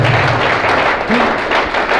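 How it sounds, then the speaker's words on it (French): Dense applause from an audience clapping for a student at a book launch and art opening, a steady wash of hand claps with a low thump or two, fairly close and loud throughout. "Est-ce qu'on peut applaudir pour l'étudiante?"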